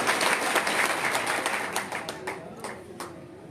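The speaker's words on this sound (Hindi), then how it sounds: "उनका जोरदार तालियों से स्वागत किया जाए।" A crowd claps loudly to welcome a state president at a political rally, the dense applause thinning into scattered claps toward the end.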